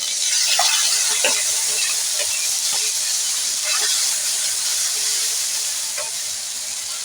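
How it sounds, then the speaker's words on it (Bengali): Chili and turmeric paste thinned with a little water frying in a hot pan, a loud continuous hissing sizzle with bursts of crackle, steady throughout with no speech. "লঙ্কা হলুদে একটু জল দিয়ে নিয়েছি এটাকেও ভেজে নেবো"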